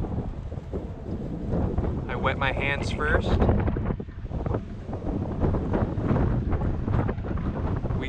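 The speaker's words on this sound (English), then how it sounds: "It's pretty windy out here, so I can hope you can hear me." Heavy wind buffets the microphone in a constant low roar by clear water while trout fishing, someone speaking briefly over it, with a few rustling bursts in the middle.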